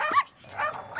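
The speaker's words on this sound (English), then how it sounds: "Dogs." Dog barks and yips in short bursts, three close loud outbursts separated by brief pauses, heard alone without talk.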